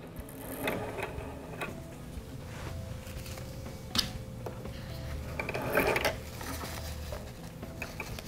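A sewing machine stitches hair wefts nearby in quiet bursts of rapid mechanical clatter, pausing and restarting, with faint handling noises between runs.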